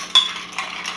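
A pineapple juice cocktail gets stirred, a spoon or utensil clinking against the glass with a bright tap and a few lighter scraping touches, close and brief.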